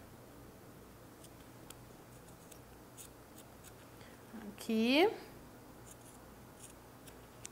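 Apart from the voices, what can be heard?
scissors cutting fabric to zipper length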